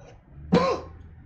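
A single rough throat clearing, close and brief, from someone with a mild sore throat, rising out of a quiet room.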